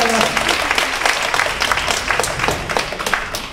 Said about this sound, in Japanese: 拍手で元気がありますね。